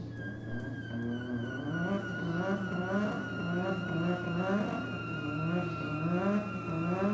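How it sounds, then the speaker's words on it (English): A Turbo Charade does a big burnout at a drag strip, its engine revving hard in a loud, continuous stream of wavering tones over a steady hum and screeching tire noise. "Nice big burnout from the Turbo Charade."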